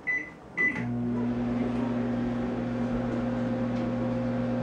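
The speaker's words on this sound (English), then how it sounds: "First, melt the cheese. In the microwave." A microwave oven runs with a steady, loud mechanical hum and drone that begins after a couple of short beeps, melting cheese inside and continuing evenly to the end.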